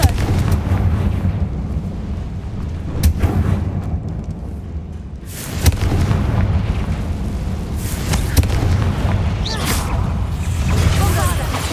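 Explosion spells Bombarda and Confringo blast repeatedly in the video game Hogwarts Legacy, heavy booms and bursts landing over a dense continuous roar of combat, loud and close, with voices talking throughout.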